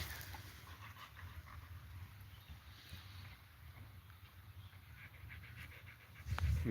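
Cooper the puppy pants after playing, a faint, rapid breathing close by. Light wind noise runs underneath, and a louder rustle comes at the end.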